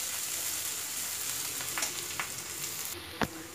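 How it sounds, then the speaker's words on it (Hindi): Onion, ginger and garlic frying in a pan with turmeric, a steady soft sizzle throughout with a few small clinks of stirring, close and moderately quiet. "यहाँ हमारा प्याज, अदरक लहसुन ये सब भून रहा है"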